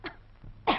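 A woman coughs twice, short and dry, with the second cough louder and close, in a quiet room in an old 1948 Hindi film.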